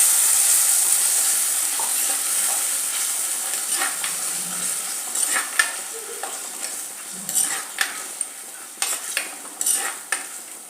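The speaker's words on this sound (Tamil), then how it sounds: "டொமேட்டோ பியூரியை ஊற்றிக்கிறேன்" Tomato puree goes into a hot pan for moringa leaf soup, with soft sizzling, steam hiss and scattered sharp clinks of a spoon stirring against the pan, no voices.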